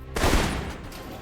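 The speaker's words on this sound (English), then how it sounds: "with the assault rifle, just every shot was double tapping for some reason" Assault rifle fire in the video game Alpha Protocol during a training exercise: a loud, close burst of gunshots that quickly fades into a lingering echo, with no voices.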